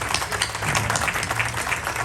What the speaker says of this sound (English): So give yourselves a round of applause for helping make this day a reality for South Los